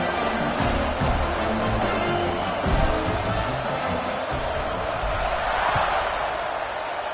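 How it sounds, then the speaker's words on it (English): Football stadium crowd buzzing after a kick-return touchdown, a broad steady roar of many voices, distant and continuous, with a commentator talking over it. "this crowd is buzzing after that last score"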